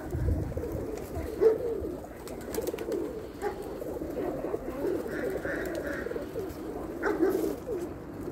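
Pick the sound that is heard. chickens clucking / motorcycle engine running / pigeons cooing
pigeons cooing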